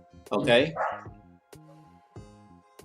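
Dogs bark a few times in the background while someone speaks nearby; the barks are brief and partly under his voice, with tonal music or hum running beneath.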